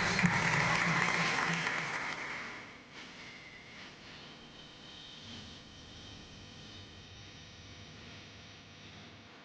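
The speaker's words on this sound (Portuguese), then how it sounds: "Palmas para Jesus" A church congregation claps for Jesus after a blessing, a short burst of applause that fades within about three seconds, leaving a low, steady hum of room noise.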